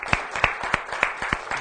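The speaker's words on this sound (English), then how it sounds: "So let's give Marion a round of applause." A small group claps in thanks for Marion at a community gathering in Fort Chipewyan, with a few distinct, fairly close hand claps in an irregular rhythm over a brief stretch.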